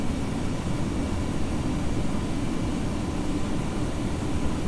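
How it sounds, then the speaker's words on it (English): Steady, continuous roar of jet engines in a video game, a broad rumbling drone that holds at an even loudness throughout with no pauses or talk. "Now I'm turning the engines back on,"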